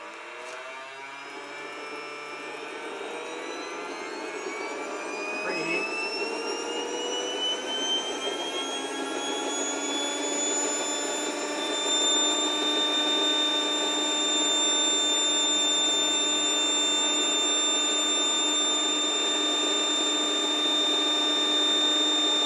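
A W44 jet engine on a test stand, fed kerosene, runs steadily after the burner lights. A loud, even roar sits under a rising whine whose pitch climbs over the first ten seconds and then holds at a high, constant tone.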